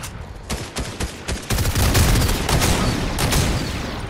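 Gunfire in the Fortnite video game: a few spaced shots, then a dense, loud burst of rapid automatic fire, close and sharp, with no voices heard.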